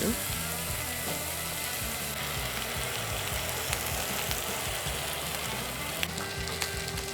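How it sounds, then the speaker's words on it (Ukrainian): Pork neck frying in a pan for a sandwich, a loud continuous sizzle and crackle filling the whole stretch with occasional clicks and scrapes, close up. "Піджаримо нашу шию."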